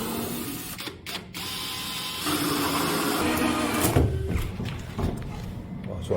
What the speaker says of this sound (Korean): 홀소로 뚫어볼게요.